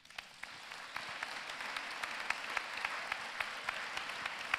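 A seated audience at a literary talk applauds, a steady mass of claps with distinct sharp hits, building slightly and continuing throughout.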